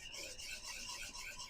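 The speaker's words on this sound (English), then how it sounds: "we're just going to whisk these guys in" A whisk beats four separated egg yolks into a warm cheese soufflé base, off the heat, making a steady, rapid scraping and rasping against the bowl that continues without pause, close and fairly quiet.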